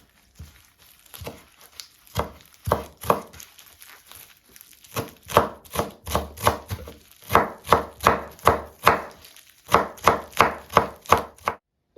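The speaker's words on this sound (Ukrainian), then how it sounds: "Петрушка, зелена цибулька, базилік, окроп. Дрібненько нарізаємо." A knife finely chops fresh parsley, green onion, basil and dill steadily on a board, quick rhythmic taps in bursts with short pauses, close and crisp.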